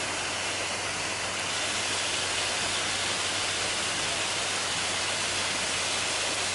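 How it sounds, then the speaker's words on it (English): A 60-foot waterfall pours in a steady, dense roar, a constant broadband rush that continues unbroken throughout. "This is the waterfall, guys. It is, I believe, 60 feet."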